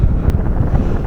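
Strong wind roars across the microphone on a hilltop escarpment at Bishop Hill, a loud, low buffeting rumble that never lets up for the whole short stretch.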